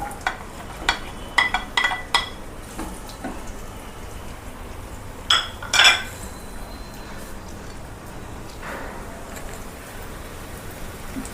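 Curry leaves and green chillies fry in a pan for an Andhra-style bitter gourd tomato curry. Sharp crackles and spits burst early and again midway over a low, steady sizzle.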